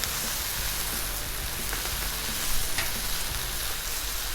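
Chicken wings sizzling on a Blackstone griddle, a loud dense continuous crackle and hiss that stays steady and close, with no speech over it.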